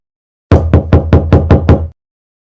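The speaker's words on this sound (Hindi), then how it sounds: "फिर आल्बर्ट के कमरे का दरवाजा किसी ने खटखटाया।" Seven quick, evenly spaced knocks rap on a room door, loud and close, with no voices.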